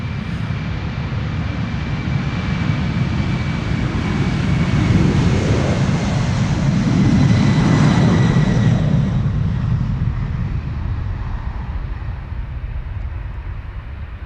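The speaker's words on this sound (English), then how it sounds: "This is United flight 21 to Houston in Texas. It is a 767-300." A United Boeing 767-300 departs Amsterdam Schiphol, its engine roar swelling to a loud peak midway with a faint whine on top, then easing off slightly.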